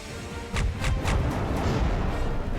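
A flak barrage attack in the sci-fi strategy game Halcyon 6 rumbles as a dense, loud wash of booming fire, with several sharp bursts punching through a sustained roar and no speech over it.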